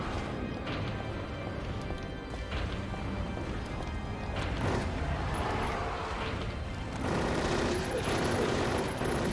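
Rapid bursts of gunfire in Silent Hill 3, shots fired up at a ceiling, crackling loudly and densely over several seconds with sharp impacts and clattering debris.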